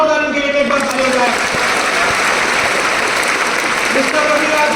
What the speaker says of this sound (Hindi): प्लीज प्लीज जोरदार इनके लिए एक बार तालियां बजाएं।